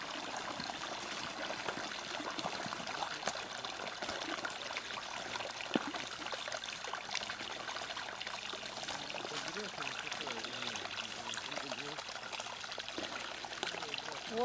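Water trickles along a road under repair like a small stream, a steady faint gurgle and babble while a person talks over it.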